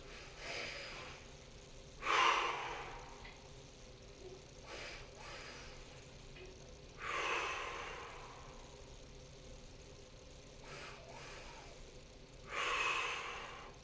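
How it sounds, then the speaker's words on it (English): A person demonstrates a meditation breathing pattern like many mammals use, a quick double inhale then a full exhale, repeated three times as soft, close breaths separated by quiet pauses. "a double inhale and then a full exhale"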